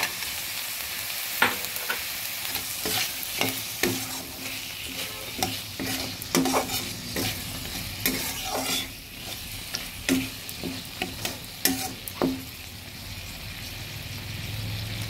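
Soaked chickpeas stirred and fried in a pan, with repeated sharp spoon scrapes and clatters over a steady close sizzle, no voices.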